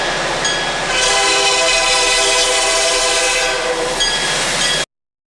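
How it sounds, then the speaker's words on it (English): A Kansas City Southern diesel locomotive, number 703, rolls into downtown Beaumont at the head of train number 41, its engine roar loud and steady and its horn sounding over the rumble of the passing cars for about five seconds. "Number 703 arrives in downtown Beaumont with train number 41 in"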